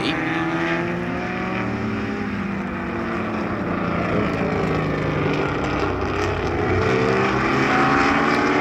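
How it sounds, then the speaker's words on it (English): A steady, loud engine roar drones throughout, a Ferrari 250 GTO's 3-litre single-overhead-camshaft V12 racing engine at sustained high revs with no pauses and no talk. "These GTO Ferraris, V12 3-litre engines, Single overhead camshaft."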